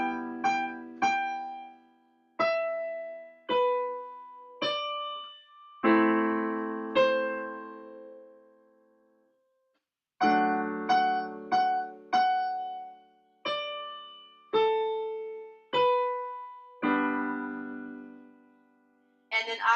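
Solo piano slowly plays a melody with chords, single notes and struck chords spaced out and left to ring and decay, quiet and close, with a short pause midway.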